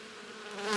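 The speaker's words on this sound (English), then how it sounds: "It has bees all the way down through both brood chambers." Honeybees humming inside a strong winter hive with twenty frames across two brood chambers, a steady close drone that swells slightly louder toward the end, with no talking.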